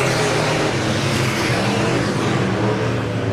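POWRi Super Stock cars in a weekly heat race roar through turns 3 and 4, with a loud, continuous engine drone from several cars and no break across the span.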